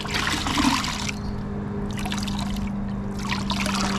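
Water streams and trickles from a sponge during a Detail Co Nemesis rinseless car wash, a close, steady wet splashing in bursts over a constant low hum, with no talking.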